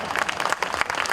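A brief, even burst of audience clapping at a mushaira recital of Urdu and Hindi poetry, moderately loud and without talk.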